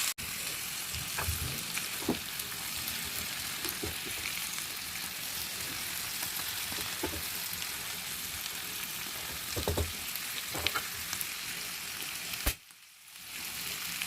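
Shrimp sizzle steadily in garlic butter in a pan after soy sauce goes in, a dense continuous crackle with occasional stirring clinks, cutting out briefly near the end before the frying hiss resumes.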